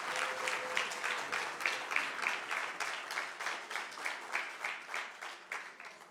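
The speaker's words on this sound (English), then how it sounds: "let's give Umkholowa a Northern Cape round of applause" A crowd at an ANC Northern Cape political school gives a round of applause, the clapping falling into a rhythmic, pulsing unison beat that stays steady throughout.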